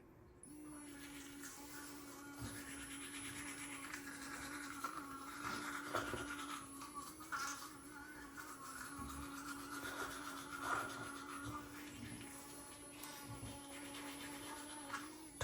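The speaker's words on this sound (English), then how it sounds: "insert toothbrush in face" A toothbrush scrubs teeth during a morning routine, giving soft, uneven scratching strokes that repeat close up and quietly, with faint rubbing bursts and no clear talk.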